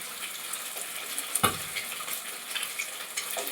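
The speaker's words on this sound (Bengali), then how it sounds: "দেখো মাছটা আমি ভাজছি, প্রায় আমার মাছ ভাজা হয়ে গেল" Rui fish frying in a pan, a soft continuous sizzle with a single louder clatter partway through, close and fairly quiet, with no talking.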